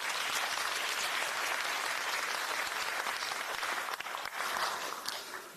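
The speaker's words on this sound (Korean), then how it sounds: "큰 박수 부탁드립니다." Applause at a Democratic Party meeting, a dense, sustained clapping from a crowd in a hall, steady for several seconds before starting to thin out near the end.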